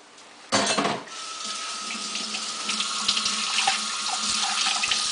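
A bell pepper rinsed under a running kitchen tap: after a brief knock, water gushes in and then streams steadily and close, with faint splashes and small knocks as the pepper is handled under it.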